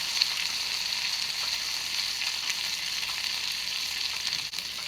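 A slice of plain bread dipped in egg sizzles in a hot pan for French toast, a steady, even crackling fry at close range, with no one talking.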